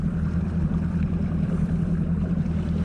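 Motorboat engine idling on a lake while fishing, with a steady, loud low hum and light water and wind noise around it and no talking.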